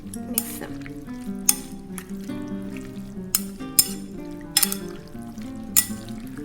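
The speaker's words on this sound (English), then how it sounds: "So mix all the sauce and the noodle together." Mungbean noodles tossed with sauce and chili sauce: several sharp clinks of a utensil against a bowl at irregular intervals over soft, wet squelching mixing sounds, close and clear, with no voices.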